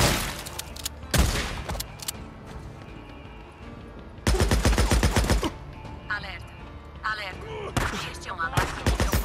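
Bursts of rapid gunfire in the video game Days Gone, with several loud volleys separated by shorter pops. A public-address voice speaks over the shooting.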